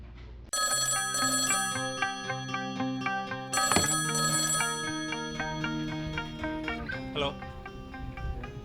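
A telephone rings with an incoming call, loud repeated electronic ring tones running continuously for several seconds with a brief interruption partway through.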